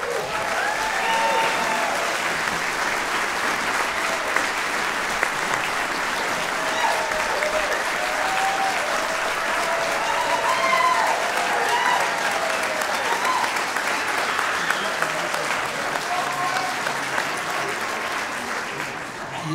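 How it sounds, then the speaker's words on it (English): Audience at a high school alumni choir holiday concert applauding, a sustained wash of clapping from a full crowd that stays loud for about twenty seconds before beginning to taper. "You know you're applauding for money,"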